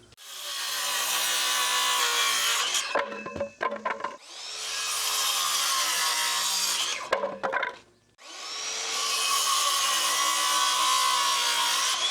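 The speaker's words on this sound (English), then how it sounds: "I think this is still the original DeWalt blade when I got this saw" A roughly ten-year-old DeWalt saw, still on its original DeWalt blade, cuts through sawmill lumber in three long, loud, continuous passes, each separated by brief pauses with clattering wood handling.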